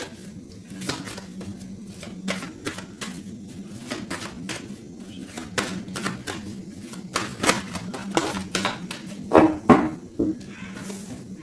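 A tarot card deck is cut and handled, with soft papery flicks and taps arriving in uneven bursts at close range over steady background music.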